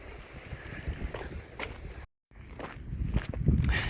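Hiking footsteps rock hopping across a stream on the Pacific Crest Trail near Pinchot and Mather Pass, crunching steps on stone close to the mic over rushing water and wind buffeting, with a brief dropout midway.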